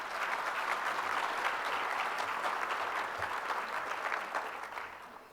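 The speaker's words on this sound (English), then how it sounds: "So please give him another big round of applause." An audience at a Tempe MLK diversity awards event applauds Congressman Stanton, steady dense clapping from a crowd that carries through and starts to fade near the end.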